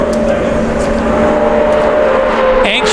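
NASCAR Nationwide Series stock car during qualifying laps at Talladega Superspeedway, a loud sustained engine roar with a steady droning tone that shifts slightly as it passes.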